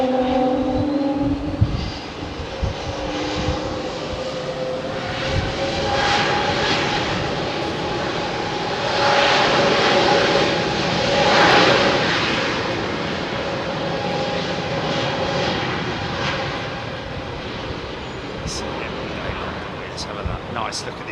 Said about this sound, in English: Nice, look at this KLM Embraer.